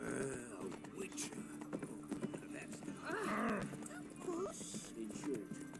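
Roach, a horse in The Witcher 3, trots with steady clip-clop hoofbeats at close range while someone talks over them.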